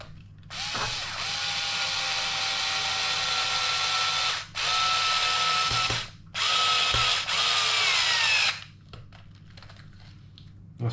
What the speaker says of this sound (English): We want to screw that back down.